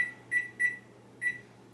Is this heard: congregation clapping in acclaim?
no